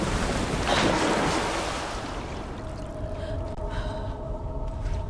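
Dark water in Alan Wake 2, a low ocean-like surge and washing roll with wind-like noise that swells early and then settles into a steady, murky drone with faint tonal hums.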